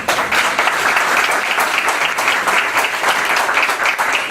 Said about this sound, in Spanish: Fuertes aplausos nuevamente al doctor Fernando Delgado Albizuri